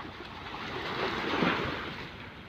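Rough surf rolls steadily along Manila Bay during a typhoon, a broad continuous wash of breaking waves swelling toward the middle and easing again, with wind buffeting the microphone and no voices.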